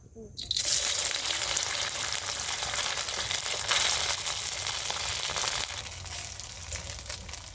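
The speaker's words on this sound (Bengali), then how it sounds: "তেলটা গরম হয়ে গিয়েছে এবার তেলের মধ্যে একটা পিঠে ছেড়ে দেব" A loud, continuous hiss of a semolina pitha dropped into hot oil, starting abruptly and sizzling steadily, easing slightly near the end.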